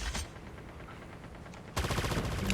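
Gunfire from Call of Duty Mobile with a JAK-12 shotgun: a brief burst of shots, a quieter lull, then a loud, sustained volley of rapid firing to the end.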